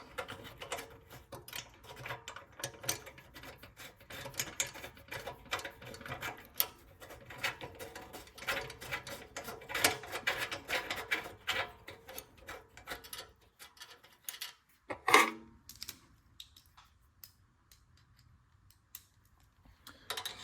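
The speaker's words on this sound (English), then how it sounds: "Tighten the bolts." Bolts are tightened to hold a replacement carburetor and new gasket on a Snapper lawn mower, producing close, rapid ratcheting clicks and metallic turning sounds that stop near the end with one sharp clack.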